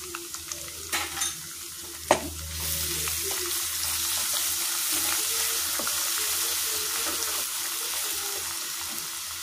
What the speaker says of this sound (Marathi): आता हे सगळं भाजून घ्यायचं।